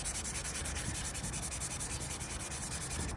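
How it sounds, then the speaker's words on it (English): Dried body putty is sanded smooth with a hand block in quick, even back-and-forth strokes, a close and continuous scratchy rasp with no talking. "You can see it sands pretty easily."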